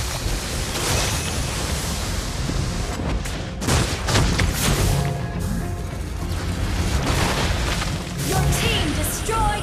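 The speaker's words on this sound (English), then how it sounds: "Turret has been destroyed." Turret destruction in the Mobile Legends mobile game, with dense booms and crashing bursts over constant busy game audio and a voice announcement.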